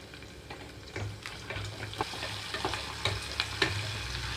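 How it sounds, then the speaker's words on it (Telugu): A paste fries in a pan with mint and coriander for moong dal khichdi, giving a continuous soft sizzle with a run of light stirring scrapes, close and free of talk. "పేస్ట్ వేసిన తర్వాత ఒక నిమిషం పాటు వేగనిస్తున్నాను"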